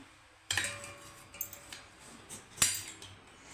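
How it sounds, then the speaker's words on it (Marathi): Jaggery being crushed finely for tea: two sharp, close knocks about two seconds apart, with a few lighter taps and scrapes between them in an otherwise quiet room. "आता गुळ असा बारीक करून घ्यायचा"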